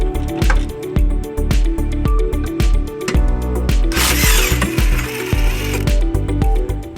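Rapid ratcheting clicks and a brief whirring burst as a 14mm socket removes tow loop bolts on a 2005 Toyota Highlander, loud and close, with dense rhythmic clicking throughout.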